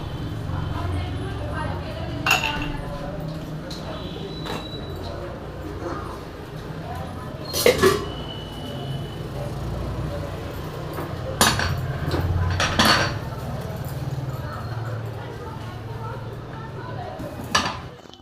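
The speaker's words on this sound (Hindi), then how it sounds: "तो फिर बर्तन धोने में लग गई थी" Dishes are washed by hand in a home kitchen, with scattered clinks and knocks of pots and utensils at irregular moments over running water and room noise while someone talks.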